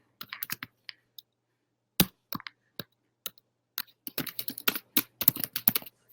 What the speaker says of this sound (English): I'll just type here.